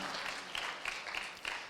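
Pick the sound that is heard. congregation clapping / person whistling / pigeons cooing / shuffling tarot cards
congregation clapping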